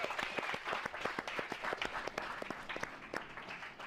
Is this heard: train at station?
no